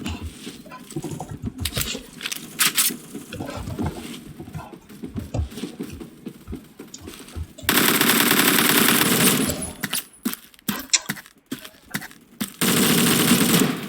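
Automatic rifle fire from a 416 with a 30-round magazine in the video game Phantom Forces, with scattered bursts of gunfire early on, then two long, loud sustained bursts of rapid fire.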